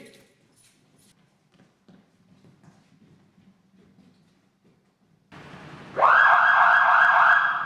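A loud fire station alarm siren at a fire brigade in Trbovlje cuts in near the end and wails steadily, after a stretch of quiet with faint movement and knocking sounds.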